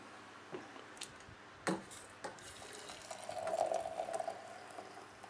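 Boiling water poured from a kettle onto mint tea leaves in a teapot, a faint, steady trickling stream rising near the end, with scattered soft clinks of the pot beforehand in a quiet room.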